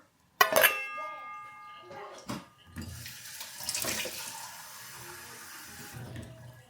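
Water poured into dhokla batter with yogurt and oil in a bowl, opening with a sharp clatter, then a steady splashing pour and some stirring.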